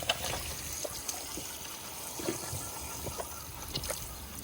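Water runs from a hose onto animals in a pasture, a faint, steady trickling and splashing with small irregular spatters, heard at a distance without speech.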